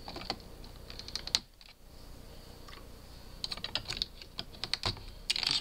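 Keys on a sticky computer keyboard are pressed in quick, irregular bursts, giving crisp, crunchy clicks close up, with a short pause partway through before the typing picks up again.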